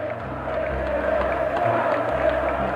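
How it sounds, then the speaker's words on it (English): Dense crowd noise at a mass rally for Ceaușescu in Romania: a steady, broad roar of many people with a low hum beneath it, continuous and fairly loud throughout. "recorded applause"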